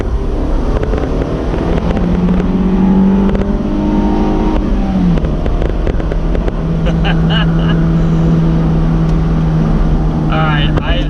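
A car engine revs hard up to about 7,000 rpm, a loud sustained drone that climbs and holds steady for several seconds, with a passenger talking over the engine noise.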